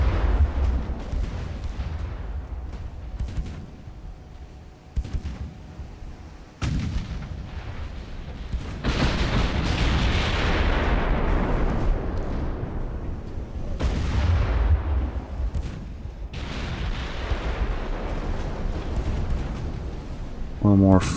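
Heavy naval artillery fire in the warship game Ultimate Admiral: Dreadnoughts, a sustained roar of loud booming salvos and shell impacts with several sharp blasts, and a voice speaking faintly underneath.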